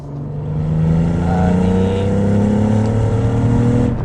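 Cadillac CT4-V Blackwing twin-turbo V6 revving up in a loud, close, sustained rising growl, its deep harmonic tone climbing smoothly and holding strong for several seconds.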